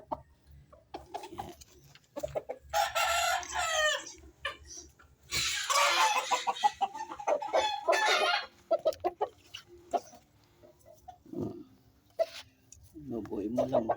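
Chickens cluck and a rooster makes loud calls close by in a backyard flock, interrupted by bursts of noise and people talking.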